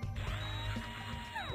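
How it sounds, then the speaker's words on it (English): A drill whines in the surgery video game Operation Now, a high, pitch-sliding motor buzz that rises and falls across short bursts, with no talking. "We're gonna do some drilling."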